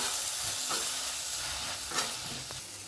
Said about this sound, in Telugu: ఇప్పుడు మేతి ఉన్న గార్లిక్ బాగా ఫ్రై అయిపోయింది.